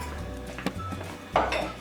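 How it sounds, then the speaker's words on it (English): A pot of soaked dates and hot water is lifted off the stove and carried to a sink, giving a few soft metallic clinks and knocks, with a louder clatter as it is set down near the end. "we're going to bring the pot over to the sink"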